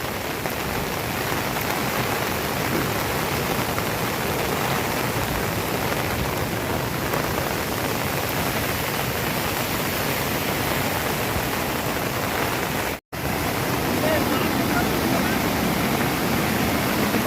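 Heavy monsoon rain pours down in Gir alongside a flooding river, a dense, loud, continuous roar of water broken only by one brief dropout near the end.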